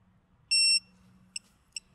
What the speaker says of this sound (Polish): należy przytrzymać przycisk do pierwszego sygnału dźwiękowego